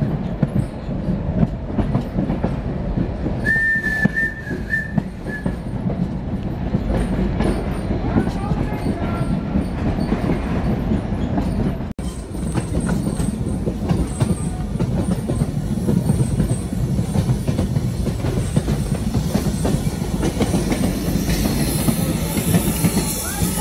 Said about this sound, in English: we enjoy the sights and sounds of old-fashioned steam railroading